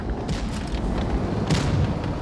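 Tank cannon fire in the WOT Blitz tank game, with a DTH-STR tank in play: a couple of heavy booming shots, one early and a stronger one near the middle, over a dense, steady low rumble of battle noise.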